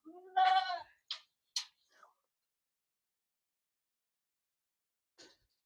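Goats on a farm give a few short, nearby bleats in a quick burst, followed by near silence and one faint bleat a few seconds later.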